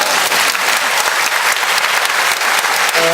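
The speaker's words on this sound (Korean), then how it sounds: "저는 박수 딱 나와요." An audience at a book concert breaks into loud, sustained applause, dense clapping from a packed room lasting a few seconds.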